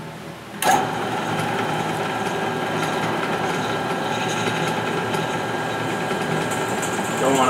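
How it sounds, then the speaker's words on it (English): A drill bores into square steel tubing with a long bit, giving a steady, loud whirring grind that starts abruptly and runs continuously for several seconds. "hopefully it drills straight"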